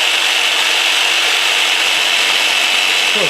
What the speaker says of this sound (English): Most number of cigarette packs sliced in half by a jigsaw.